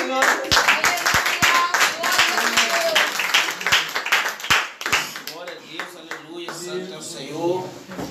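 A church congregation at a youth service claps in sharp, uneven bursts, loud and close, mixed with a spoken voice throughout.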